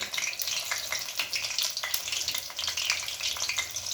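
Jute leaf fritters frying in oil, a dense crackling sizzle with rapid popping bubbles, steady and close throughout with no talking.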